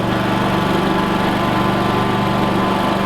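A Gravely riding lawn mower engine runs steadily at close range, a loud continuous hum with a constant pulsing drone and no pauses or voices.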